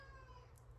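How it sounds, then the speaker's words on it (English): A cat cries softly in a quiet indoor room, a faint, thin, drawn-out wail that stays low under the background hush. "That's Frank crying"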